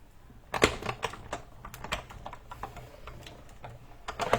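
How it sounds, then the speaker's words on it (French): Die-cutting machine cutting snowflake shapes from vellum paper: a run of sharp, uneven clicks and taps, loud up close, with a cluster at the start and more near the end. "Je prends du papier vélin et je découpe maintenant 2 flocons."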